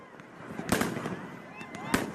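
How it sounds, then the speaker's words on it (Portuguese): Fireworks launched by a group of about 30 protesters toward the Supreme Court building in Brasília, popping in sharp bursts, one around the middle and another near the end, over a background of street noise and voices. "um grupo de cerca de 30 manifestantes foi até o Supremo Tribunal Federal e lançou fogos de artifício em direção ao prédio"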